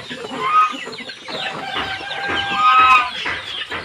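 Bangkok chickens cluck and squawk in overlapping calls at a small farm, with a rooster's drawn-out crow rising among them, fairly loud and close.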